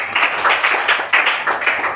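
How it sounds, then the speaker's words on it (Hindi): A Sunday church congregation claps during worship, rhythmic group clapping at moderate loudness with regular beats, fairly close, with no voices heard. "परमेश्वर को ताली बजा रहा हूं।"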